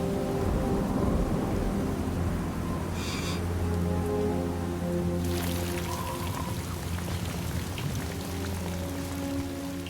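Steady heavy rain pours during a mountain storm near an avalanche site, with a long rolling thunder rumble and a sharper crack of thunder midway.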